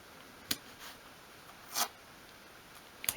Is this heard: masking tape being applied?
yes